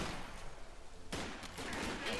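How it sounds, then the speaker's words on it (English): Machine gun fire in Company of Heroes 2, a faint dense rattle of automatic gunfire in the background that swells after the first second. "That's an MG."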